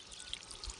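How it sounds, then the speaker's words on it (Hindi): Water flowing into a rice paddy nursery in a hill village in Pithoragarh, Uttarakhand, a faint steady trickling stream with soft continuous splashing. "अब ये पानी आ रहा है मेरा छोटा छोटा,"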